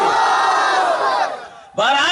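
Crowd of students and hafiz at a religious gathering roars Allahu Akbar in answer to a takbir call, a loud massed shout that swells, briefly drops, then bursts again.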